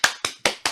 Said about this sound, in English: The wild applause.